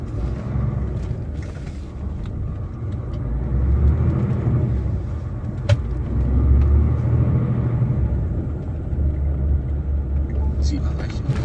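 A truck engine rumbles low and steady while the truck drives into its lane, heard from inside the cab with a continuous road drone, and a person talks over it.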